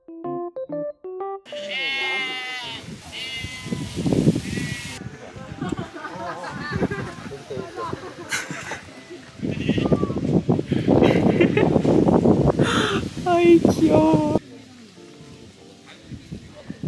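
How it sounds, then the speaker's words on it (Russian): Sheep bleat in short, high calls on a farm in the mountains, mixed with people talking close by and a steady rain-like hiss in the background. "мы приехали на ферму с овцами"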